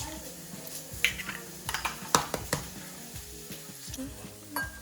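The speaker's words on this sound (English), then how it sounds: "Just whisk this." A whisk clicks and scrapes against a bowl as six large eggs are beaten for a vegetable quiche filling, with irregular sharp taps and knocks over a quiet background.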